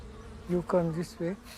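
Bees buzzing close by in short, droning bursts that swell and fade, with brief quieter gaps between passes.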